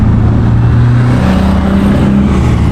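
Car engine revving hard against a rev limiter set at 7100 rpm, loud and close, with a sustained buzzing roar and slight pitch wobbles throughout.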